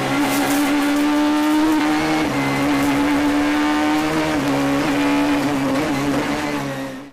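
A WRC F2 kit rally car's engine holds a loud, sustained howl at high revs for about seven seconds, with slight pitch dips as the driver shifts or lifts and climbs again.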